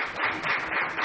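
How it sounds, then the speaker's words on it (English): A brief burst of audience clapping welcomes a lecturer, a short steady patter of many hands at moderate volume with no voices. "I would like to give him a round of applause."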